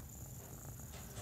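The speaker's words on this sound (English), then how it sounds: "if you hear purring, that's just a kitten that thought it was a good idea to lay on my neck" Soft, continuous purring from a kitten resting on someone's neck, heard close and low with an even, unbroken rumble and no talk.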